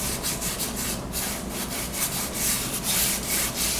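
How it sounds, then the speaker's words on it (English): Fine 600 grit sandpaper rubs over furniture veneer in steady, continuous back-and-forth strokes, a soft close scratchy texture with no talking. "I'm going to take 600 grit sandpaper, dull this a little bit."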